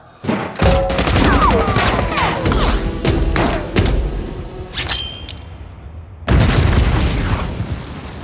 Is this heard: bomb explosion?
yes